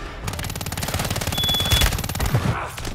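Rapid automatic gunfire from a meta gun in a shooter video game, a dense stream of evenly spaced shots rattling loud and close for about three seconds, with no talking over it.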